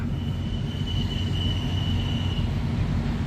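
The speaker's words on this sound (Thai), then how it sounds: "ก็จะมีรถ หัวรถจักรเปล่าเข้ามา" Empty railway locomotive rolling in past a station platform on a Thai railway, a steady loud rumble of wheels on track with a sustained high metallic squeal running through the middle, close and without talk.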